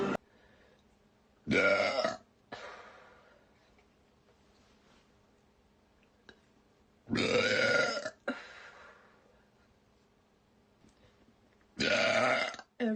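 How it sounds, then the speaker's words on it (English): Three loud, drawn-out burps at a steady spacing, each ending sharply and followed by quiet breathing and small room noises in between. "That's kind of a burp."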